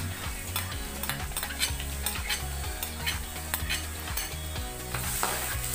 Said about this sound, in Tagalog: Igisa po natin ang bawang.